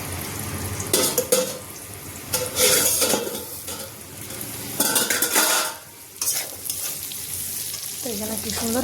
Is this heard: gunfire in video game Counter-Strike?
no